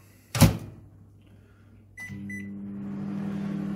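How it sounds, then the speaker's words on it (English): A microwave oven heating ramen: a loud thunk of the door closing, a couple of beeps, then the steady low hum of the oven starting and running. "You put the ramen in the microwave."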